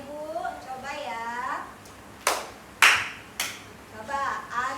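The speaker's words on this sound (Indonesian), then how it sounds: "Ice breaking-nya ini tentang tepuk" Three sharp, separate hand claps ring out in a quiet room as part of a group icebreaker game about counting claps, with a voice talking before them and more speech resuming afterward.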